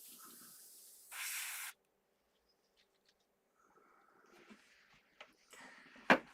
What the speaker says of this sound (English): Get some airbrushing done.